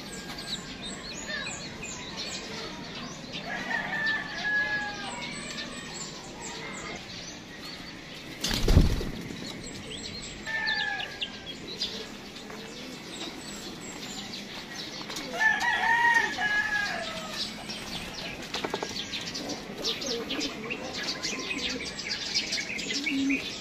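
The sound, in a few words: chickens, hen and rooster crowing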